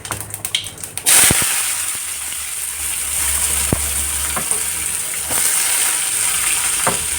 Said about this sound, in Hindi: तेल गर्म हो चुका है, जीरे का छौंक लगाएंगे और ये काटे हुए प्याज लहसुन है इसको डाल देंगे।